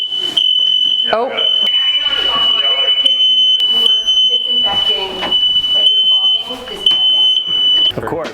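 A smoke alarm shrills with a continuous high-pitched tone as fog is released indoors, sounding loud and close for nearly the whole stretch while several people talk and react over it.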